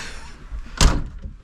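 A single solid thunk of a Trabant 601S car door being pulled shut, close and sharp, with a faint rattle after.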